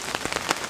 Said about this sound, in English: it's definitely raining again